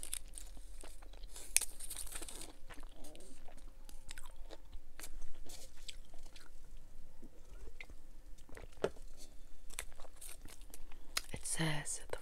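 Fortune cookie being crunched and chewed close to the mic in an eating session, with crisp snaps and crinkling bites scattered across the stretch and soft wrapper rustles between them.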